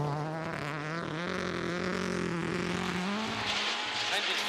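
A British Rally Championship rally car with a failing engine runs a rough, droning exhaust note with wavering pitch, loud and close throughout, while people talk over it.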